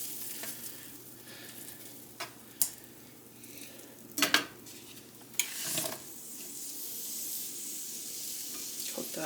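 Pumpernickel bread toasting in vegan butter in a pan gives a soft, steady sizzle, broken by a few sharp scrapes and clinks of a utensil against the pan.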